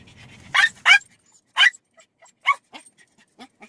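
A dog barks in a string of high-pitched, sharp yaps, loud and close, with several bursts spaced irregularly and softer yips trailing off between them in an otherwise quiet space.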